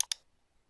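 Two quick, crisp computer mouse clicks close together, made while pressing the overlay button in HitFilm editing software, followed by near silence.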